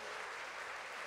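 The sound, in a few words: church congregation applauding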